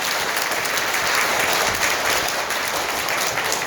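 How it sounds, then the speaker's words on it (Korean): Sustained applause from an audience at a Buddhist appointment ceremony at Hwaeomsa temple, a dense, even wash of many hands clapping together at steady loudness throughout, with no talk over it. "큰 박수 부탁드리겠습니다"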